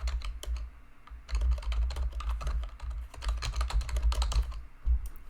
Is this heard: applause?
no